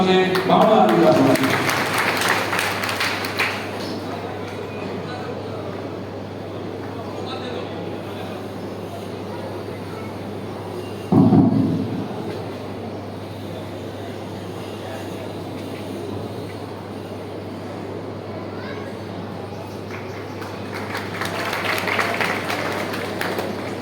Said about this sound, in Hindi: जोरदार तालियों से भंवरलाल जी का